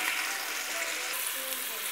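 Chicken drumsticks fry in a pot with oil before a tomato sauce with onion, parsley and thyme is added, giving a steady, close sizzle and crackle with no pauses and no voices.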